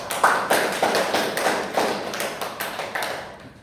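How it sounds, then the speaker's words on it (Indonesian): Classmates in a classroom applaud a student who answered correctly, giving a sparse run of about a dozen sharp, evenly spaced claps, close and fairly loud, with no talking. "Betul sekali, berikan aplaus kepada temannya."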